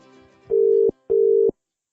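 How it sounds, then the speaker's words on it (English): Two long, steady electronic tones of a telephone ringing while a call is placed, each lasting about half a second with a short pause between, loud and clear, with no talk. "I'm going to give Deirdre Vercoe and Andrew Digby from the National Kākāpō Recovery Team at the Department of Conservation a phone call"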